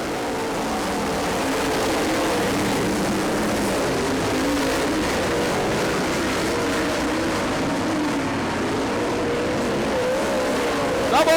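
Race cars thunder around the track on the final lap, a sustained loud engine roar that swells and shifts without a break for the whole stretch.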